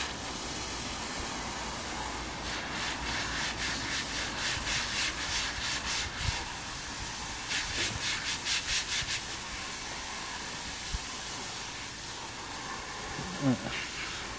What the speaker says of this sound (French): Un petit dernier coup de brosse dessus